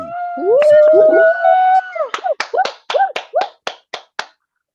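A handful of audience members clap after a host tells them to applaud themselves, about ten separate sharp claps in an uneven rhythm that thin out and stop, following a stretch of sustained tonal sound.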